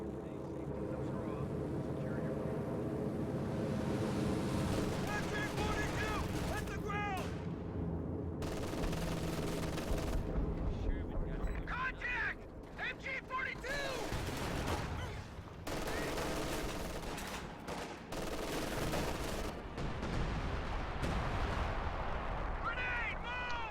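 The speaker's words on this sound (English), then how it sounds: "Time on target artillery dropped on the tier 2 structure." A time-on-target artillery barrage lands in a World War II strategy game, heavy overlapping blasts and rumbling explosions with bursts of gunfire running continuously and loudly throughout.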